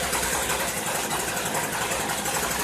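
A Stihl FS 56RC string trimmer engine idling slightly high during carburetor adjustment, a steady close buzzing drone with fast even pulses throughout.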